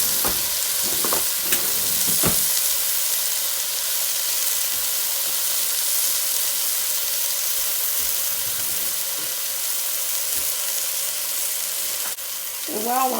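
Beef for a pot roast sears in a hot pan with a steady, loud sizzle that runs unbroken throughout, broken by a few brief clinks and scrapes of utensils.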